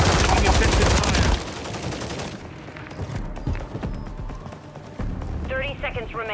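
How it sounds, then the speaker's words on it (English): Rapid automatic gunfire in Call of Duty team deathmatch on the Highrise map, loud dense bursts at first that give way to scattered shots and game sounds. "Taking effective fire."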